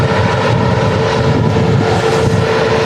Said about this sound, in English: Got a KLM 737 taxiing out here.